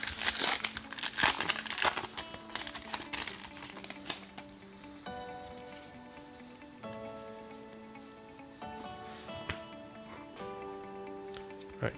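A Magic: The Gathering Guilds of Ravnica booster pack wrapper is crinkled and torn open up close, a burst of crackly foil rustling at the start that thins out under a quiet background of sustained musical tones.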